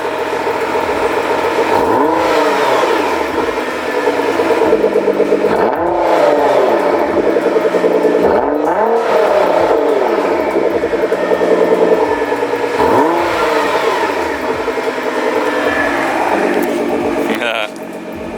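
A Nissan GT-R with an Armytrix valved exhaust in comfort mode revs repeatedly in loud, rising and falling sweeps, roughly every three seconds, with the engine held close and prominent. A voice can be heard in the background.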